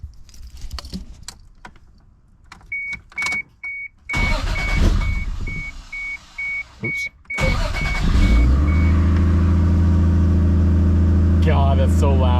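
A Toyota MK3 Supra with a loosened downpipe cranks and fires up, keys jangling and a brief remark before the loud, booming exhaust settles into a steady, close rumbling idle.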